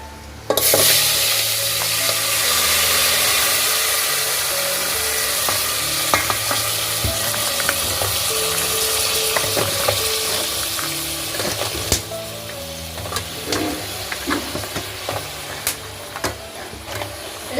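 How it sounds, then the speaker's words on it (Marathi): Hot tempering sizzles loudly in a pan over sautéed white crab curry ingredients, a strong steady frying hiss with scattered crackles and clinks from stirring that continue to the end. "आता मी फोडणी घालते"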